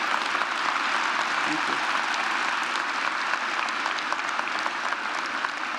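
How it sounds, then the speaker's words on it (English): Audience at a university presidential investiture clapping steadily and densely, a broad sustained wash of applause throughout, with a speaker briefly talking over it. "I'm glad you're clapping"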